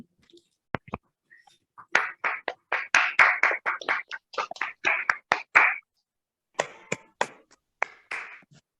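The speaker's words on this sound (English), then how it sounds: "A round of applause to all the participants. And you can open your mic and clap also." Participants in an online graduation ceremony clap over open microphones: sharp, uneven bursts of hand claps that overlap for several seconds, fade, then return as scattered claps against a silent background.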